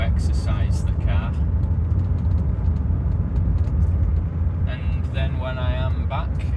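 A 1980s Bentley Eight being driven, a steady low engine and road rumble running throughout from inside the car, with someone talking over it at the start and near the end.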